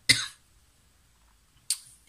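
Two separate coughs from a woman, a sharp nearby burst at the start and a second, shorter one after a quiet pause.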